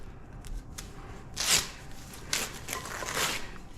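A blade slices open the cardboard box of a Mainstays wooden rocking chair: a few short, sharp scraping and tearing bursts, nearby and fairly loud over quiet background rustle.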